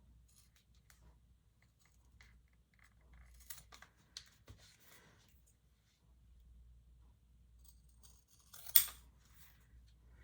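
Scissors trim fabric pieces for a waist pack or crossbody bag along marked lines. The snips come faint and sparse in a quiet room, with a few small cuts and one sharper, louder snip near the end.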